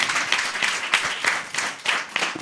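A church congregation breaks into steady, dense applause during a sermon, many hands clapping together at close range, with brief louder swells in the rhythm.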